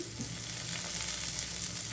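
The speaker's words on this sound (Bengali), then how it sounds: "আমি এটা ভাজতে থাকবো পেঁয়াজটা ভাজা হয়ে গেছে এখন আমি এর ভিতরে আমি এখানে বিনস দিয়ে দিলাম" Onion and beans fry in a pan for vegetable egg noodles, a steady, close sizzle of oil crackling without pause and with no voices.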